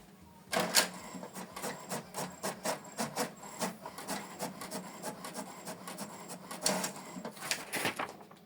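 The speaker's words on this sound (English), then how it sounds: "Print test page." An HP Deskjet 2922 inkjet printer prints a test page nearby with repeated rhythmic mechanical strokes and brief whirs, the carriage shuttling back and forth at a steady pace.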